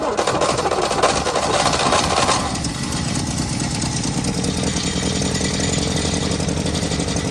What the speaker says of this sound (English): there goes the fuel pump